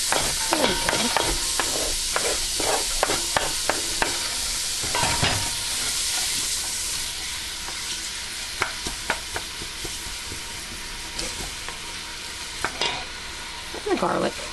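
Onions sizzling in a hot pot over medium heat, the start of Italian wedding soup: a loud, bright frying hiss broken by sharp clatters and scrapes of stirring, which grow sparser and fainter toward the end.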